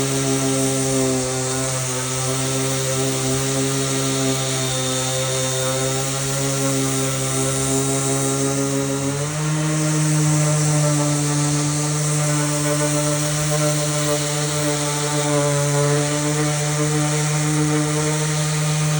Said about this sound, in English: right here with this gator sander. I'm gonna try to sand this wood right here and see how it does.